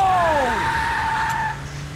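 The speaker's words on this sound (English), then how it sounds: "Just drive the fucking car." A car skids in the Max Payne 3 action video game, a loud tire squeal that sweeps downward and then holds a steady whine for about a second and a half before dropping away, with faint engine noise.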